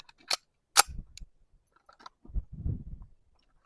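A 1911 pistol fitted with a dual port compensator fires two sharp, loud shots about half a second apart, followed by quieter mechanical clatter and low thumps.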